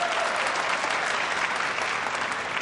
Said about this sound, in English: the crowd going absolutely mad